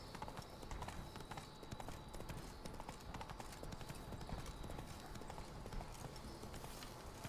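A horse's hooves clip-clop at a steady trot in The Witcher 3: Blood and Wine, with a regular rhythm of moderately close hoofbeats running continuously over a soft ambient game soundscape.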